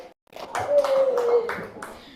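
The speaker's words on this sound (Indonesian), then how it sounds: "tepuk tangan dulu." A school class in an English lesson claps hands together in a short burst of several rhythmic claps, close by, with a voice sounding over the clapping.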